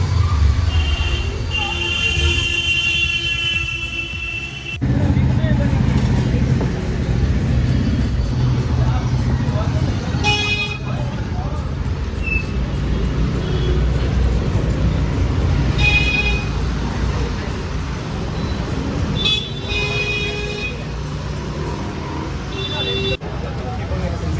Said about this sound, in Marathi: ट्रॅफिक आहे ट्रॅफिक आहे. नॉर्मल आहे उदयपूरसाठी